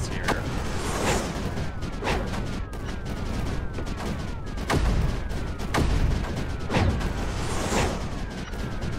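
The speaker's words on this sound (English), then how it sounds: "Turrets don't like shooting down a level." Turrets and cannons firing in the space strategy game Creeper World 4, a steady series of sharp synthetic blasts with whistling projectile streaks, repeating every second or so over a busy background.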